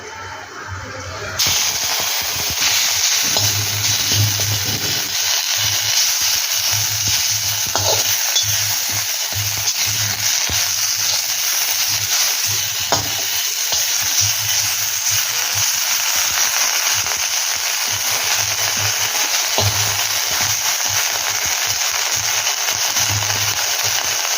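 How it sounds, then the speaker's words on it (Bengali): Washed neem leaves hit a little hot oil and crackle loudly, a dense, steady hiss and sizzle with faint stirring that runs unbroken and close throughout, no voices. "নিম পাতাগুলোকে দেখো এমন করে ভাজতে হবে একদম কড়কড়ে হয়ে যাবে"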